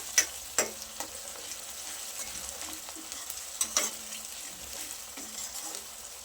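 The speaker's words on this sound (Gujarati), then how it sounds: "ડુંગળીને થોડી વાર ટ્રાન્સપરન્ટ થાય ત્યાર સુધી સાંકળીશું." Onions and curry leaves sauté in a pan, a soft steady sizzle broken by a few sharp clicks of a spoon stirring, close and fairly quiet with no voices.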